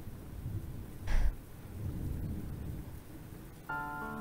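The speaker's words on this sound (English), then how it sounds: "Soon the rain got so much heavier that I couldn't even believe it" Heavy rain pours steadily in a video game scene, with a loud thunder crack near the start and a brighter tonal chime entering near the end.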